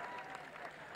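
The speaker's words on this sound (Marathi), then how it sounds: "टाळ्या फक्त करा, टाळ्या करा फक्त." Crowd clapping at an outdoor kusti wrestling bout in Pune, a steady, faint wash of applause from a distance, with a murmur of voices mixed in.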